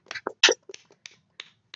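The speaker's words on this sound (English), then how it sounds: "the perfect clap." A handful of sharp, isolated hand claps in quick succession, close and dry, each a brief crisp burst separated by short silences, with no voices in between.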